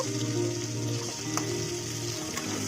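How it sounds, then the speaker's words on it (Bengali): Diced potatoes fry in oil in a pan with a steady, close sizzle that holds at an even level across the short stretch, with one brief louder crackle near the middle. No voices are heard. "আলুটা দিয়ে ভালো করে হালকা লালচে লালচে করে আলুটাকে ভেজে নেব"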